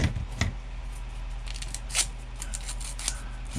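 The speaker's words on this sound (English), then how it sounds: "if you have some sharp scissors" Sharp scissors snipping a flat window replacement piece, with several quiet crisp cuts spaced unevenly over a few seconds, close and alone.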